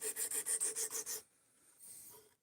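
Rhythmic rasping strokes of an S35VN knife edge being reprofiled on a sharpening stone, about nine quick even passes, then a pause and a softer continued scrape.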